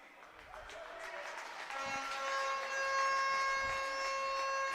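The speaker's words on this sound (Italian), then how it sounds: "Ora suono della sirena" A long electronic siren blares across a roller hockey arena during a women's Serie A match, a steady sustained tone rising slightly in level over a murmuring crowd.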